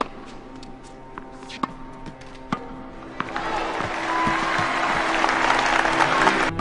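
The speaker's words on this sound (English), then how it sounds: "You'll hear the crowd responding all night to every point won by Billie Jean." Crowd at Billie Jean King's televised tennis match, with scattered sharp claps and taps, then a swelling burst of applause and crowd noise that builds and holds loud through the second half.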